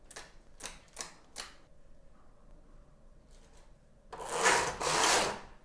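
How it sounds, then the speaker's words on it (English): A Knittax knitting machine clacks through a row: four quick separate carriage strokes, a quiet pause, then a longer, louder rasping sweep across the needle bed, close and without talk. "Knit one more row."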